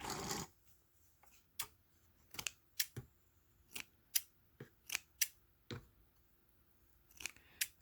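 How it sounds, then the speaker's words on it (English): Dull scissors snip through photos being trimmed into scalloped journal cards, a series of about a dozen crisp, close cuts in an irregular rhythm over a quiet background. "These scissors aren't very sharp."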